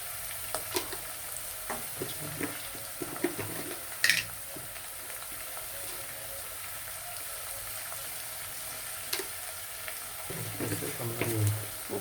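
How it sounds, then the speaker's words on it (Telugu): Onions frying in a pan with salt for mutton curry, a steady soft sizzle with scattered crackles and occasional stirring clatter, fairly quiet with no voices. "ఇక ఉల్లిగడ్డలు బాగా వేగాలండి."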